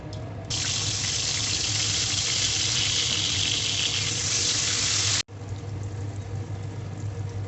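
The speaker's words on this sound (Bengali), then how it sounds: "দেখুন এবারে এই তেলে আমি আলুগুলো ভেজে নেব।" Sliced potatoes frying in hot oil for a Bengali katla fish curry with onion greens: a loud, bright, continuous hiss that bursts in abruptly, holds steady for several seconds, then drops to a quieter sizzle after a brief cut.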